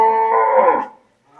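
A single loud, close moo from a Friesian Holstein bull being weighed, a sustained tonal call lasting under a second that fades away, with silence after.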